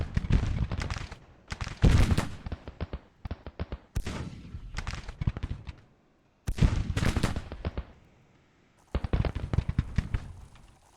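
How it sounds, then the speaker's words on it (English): A Civil War artillery battery fires in Grand Tactician: Civil War, with loud, crackling volleys arriving in about five separate bursts, each ringing briefly before trailing off, with short quiet gaps between. "that artillery battery's firing"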